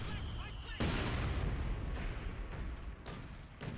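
Mortar fire in Company of Heroes 2: loud, dense booming impacts and rumbling blasts, with a sharp burst near the start and more thuds later, amid continuous battlefield noise.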